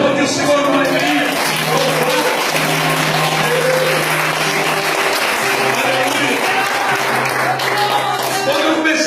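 A church congregation claps warmly and continuously for several seconds, dense crowd applause with music and voices underneath.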